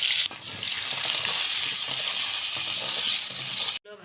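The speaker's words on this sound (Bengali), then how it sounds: "প্রথমে আমি আলুগুলো ভেজে নেব।" Potatoes frying in hot oil in a pan: a loud, steady, close sizzle that holds for nearly four seconds, then cuts off abruptly.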